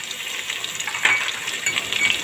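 Beef liver frying with bay leaves while being stirred in a pan, a close steady sizzle with light metallic clinks and scrapes of the spoon scattered throughout.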